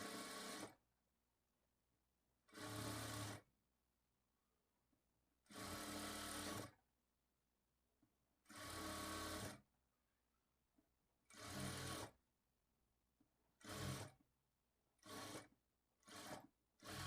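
Sewing machine stitching piping onto a garment's lining and main cloth in repeated bursts, several longer runs followed by shorter quick ones, each separated by silence, with no talking.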